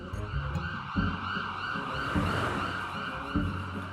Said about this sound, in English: Ambulance goes past.